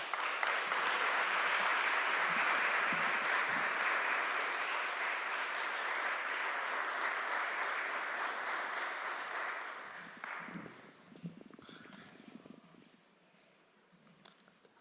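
An audience greeting a lecturer at a theological lecture with sustained, dense applause that fills the hall, then thins out into scattered claps and fades to near quiet.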